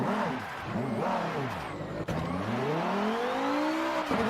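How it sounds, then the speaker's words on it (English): A drift car with an angle kit and drift suspension revs hard while its wheels spin, its engine pitch rising and falling in repeated swoops with tire squeal, loud and continuous. "And this car spins its wheels."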